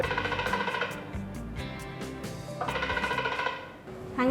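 An Android phone rings at full volume through Find My Device's play sound feature, a loud repeating electronic ringtone pattern heard close and alone.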